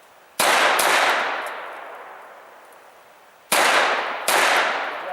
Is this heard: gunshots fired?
yes